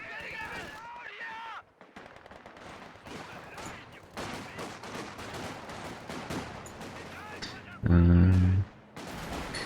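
Gunfire in a World War II strategy match with an MG42 in play: sharp cracks and rapid bursts layered with battle noise, a steady clatter under a talking voice, with a loud low tone near the end.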